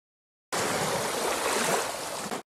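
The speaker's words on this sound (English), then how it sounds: "It's raining into a puddle or something." Steady broadband splashing of rain pouring into a puddle, dense and continuous, starting abruptly and cutting off after about two seconds, with no voices.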